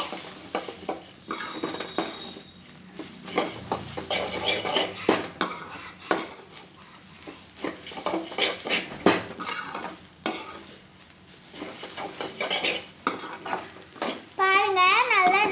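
A mixture with turmeric and chili powder is stirred, with repeated scraping and clinking of a spoon against a metal pan and a light sizzle, under intermittent talk and a voice.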